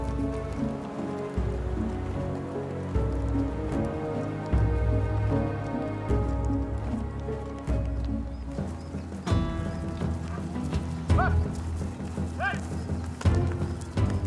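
Spanish horses of the conquest era clop their hooves in a steady, overlapping rhythm, with a brief whinny partway through, all set under a continuous sustained musical score.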